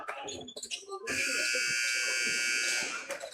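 A loud, sustained electronic buzzer sounds in a high school basketball gym to end the first quarter, holding steady for about two seconds before cutting off, with crowd noise and a commentator's voice around it.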